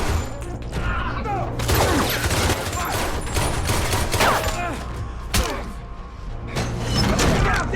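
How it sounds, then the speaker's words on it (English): Rapid bursts of gunfire crack and echo in dense, overlapping volleys, loud and close, with thuds and chaotic noise between shots. "Gunfire erupts without warning."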